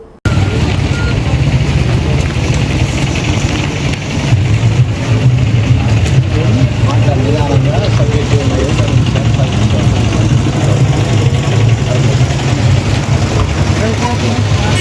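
Motorcycle engines idle and rumble steadily at a youth bike rally for Chhatrapati Shivaji Jayanti in Tekmal, a continuous low drone up close, with voices talking over the engines.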